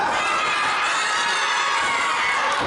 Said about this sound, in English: This crowd completely relentless towards the Killer Bee